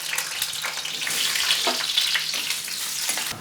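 Potatoes fry in hot oil in a home kitchen, giving a steady close crackling sizzle with a few stirring scrapes, no voices over it.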